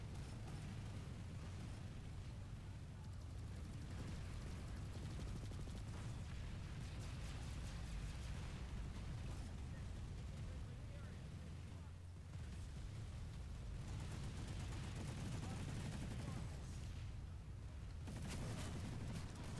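Gunfire and explosions from the video game Planetside 2 roar almost without a break, a dense, loud wall of bursts with brief dips, while a voice talks faintly underneath.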